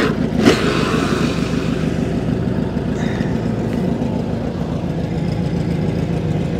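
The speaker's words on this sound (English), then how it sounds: "So I put it in drive and that wheel started spinning, and I put that jug under the wheel so the power would shift to the other wheel" A 1960 Impala sits in drive with one rear wheel spinning freely, giving a steady close engine drone with a sharp knock near the start, with no talk.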